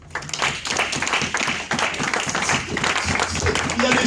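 A church congregation claps and applauds during a sermon, a dense, steady wash of hands that continues with voices mixed in.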